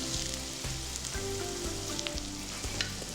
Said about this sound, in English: Break up the pork and fry till it turns white.